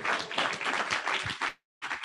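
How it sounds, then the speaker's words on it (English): Lecture audience bursts into clapping, a loud, dense patter of many hands lasting about a second and a half, cutting abruptly to silence before resuming. "If you want to clap, clap now."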